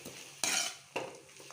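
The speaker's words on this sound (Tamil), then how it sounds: "இப்போ எல்லாத்தையும் ஒன்றா சேர்த்து வதக்கி எடுத்துக்கலாம்." Ingredients for a mixed-vegetable kadamba chutney with ginger are stirred together in a hot pan. Two loud scraping, sizzling strokes ring out close by, with a soft sizzle continuing between them.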